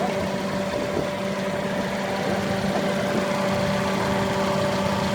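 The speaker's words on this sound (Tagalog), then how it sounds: "ito yung ating 16 valve VVTi variable valve timing injection." A Toyota Corolla Altis 1.6G with a 16-valve VVT-i engine idles in a steady, even hum with a faint mechanical whir, close and continuous throughout.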